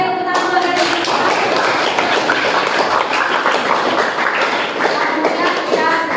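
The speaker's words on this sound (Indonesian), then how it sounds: "Oke, tepuk tangan buat kalian." Students applauding in a classroom, dense continuous clapping from many hands throughout, loud and close, with voices mixed in.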